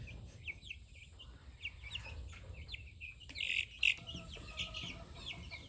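Caged chickens on a Florida homestead make faint, scattered clucks and chirpy calls at a distance, with short peeps popping up over a low steady background hum.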